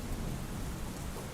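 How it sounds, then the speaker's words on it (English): Steady rain in a thunderstorm, a dense continuous wash with low rumbling underneath, even in level and unbroken throughout, with no voices. "Kaizer had always liked the rain, but lately he welcomed it like an old friend."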